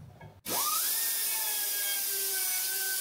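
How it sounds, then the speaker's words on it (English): An air powered die grinder spins up from silence with a sharp rising whine, then holds a steady high-pitched scream while grinding material, loud and close. "Got this air powered die grinder."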